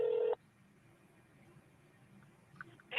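Telephone dialing tones from a played phone call recording, a short burst of keypad tone at the start, then near silence with faint background noise, and another dial tone starting at the end.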